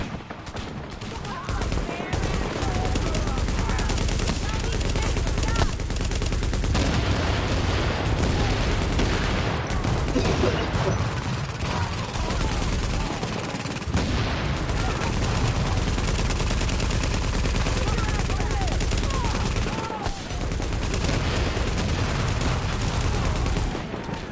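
Dense gunfire and sniper shots from a PS4 shooter game: continuous loud automatic bursts and booming single shots packed tightly together for the whole stretch, with no pauses.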